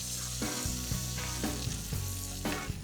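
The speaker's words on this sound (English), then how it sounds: "Crisp the bacon over a hot fire." Artisanal smokehouse bacon crisps over a hot fire, a loud, continuous close sizzle with several sharp scraping bursts.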